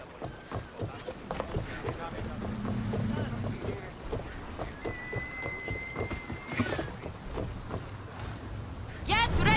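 A sailing ship moving across water in Assassin's Creed Odyssey, with a rhythmic creak and splash of the hull, wind and a rising horn-like tone, while a voice talks over the top.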